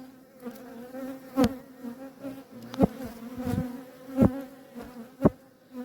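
Honeybees buzz steadily at a troubled hive with a marked queen, a continuous close hum broken by several loud passes as single bees zip past the listener.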